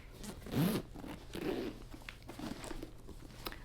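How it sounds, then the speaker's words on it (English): Zipper on a zippered knitting project bag, pulled in three short quiet runs spaced about a second apart, close to the mic with no talking. "make sure that you're not zipping your project into this zipper and snagging anything"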